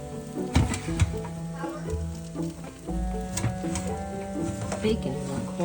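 Bacon frying in a soup pot, a steady sizzle with occasional stirring clatter, close and moderately loud, while a person talks over it.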